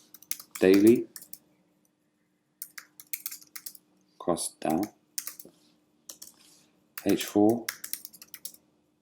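Computer keyboard keys clatter in short bursts of quick typing, close and crisp, between which someone speaks briefly in a quiet room.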